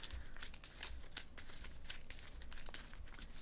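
Marvel Champions playing cards being shuffled, a quiet run of crisp riffling and crinkling snaps in quick bursts, close and alone.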